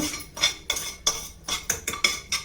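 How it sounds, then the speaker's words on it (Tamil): White sorghum (jowar) roasting in a pan with a little oil, heard as about eight rhythmic, close metal spatula scrapes against the pan, no voices. "இதை வந்து ஒரு நிமிஷம் வறுத்துக்கலாம் லேசாக எண்ணெய் அதிகம் போடணும்னு இல்லை"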